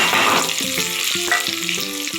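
Whole spices for a tempering drop into hot oil and crackle loudly up close, with a dense continuous sizzle and rhythmic stirring clinks running through the short burst.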